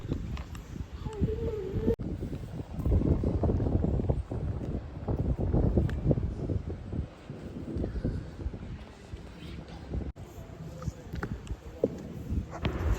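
Steady wind rushes against the microphone in a low, continuous rumble, with voices faintly talking underneath.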